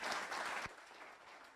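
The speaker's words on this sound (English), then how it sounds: "I think a round of applause is necessary." Audience at a digital entrepreneur panel discussion gives a dense burst of applause that cuts off sharply, leaving a quieter, fading room murmur.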